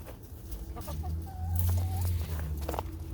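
Chickens in a backyard coop give low, steady clucks along with a short rising note, close by and fairly loud, and no one speaks.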